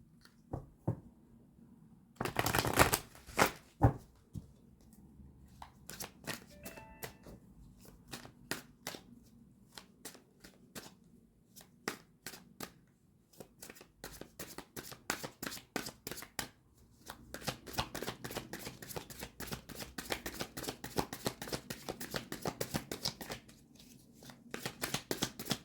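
Tarot cards being shuffled by hand, a run of crisp riffling and flicking bursts with short pauses between them, close and fairly loud, with no talking.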